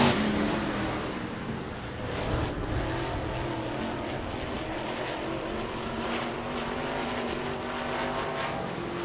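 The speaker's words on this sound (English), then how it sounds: "Almost a 5-second lead that lap around for Shane Waybright in the 23 car." Race cars roar around the Diamond Mountain Speedway oval during a feature race, with a steady, loud engine drone that swells as cars pass, blending into a dense continuous wash of noise.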